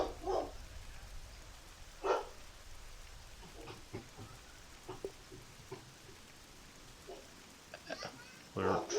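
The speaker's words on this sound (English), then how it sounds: "My dog Zelda barking like a frickin' bitch." A dog barks in short bursts indoors, a few separate barks spread apart against a soft rain-like background hiss, moderately distant and not loud.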